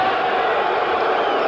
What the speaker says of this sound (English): Boos coming up from the crowd at the Pacific Coliseum, but unnecessarily so